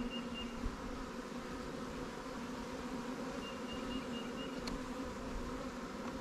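Honeybees buzz in a steady, dense drone around a new swarm hive in a Langstroth and Warré beekeeping setup, continuous and fairly close with no talk.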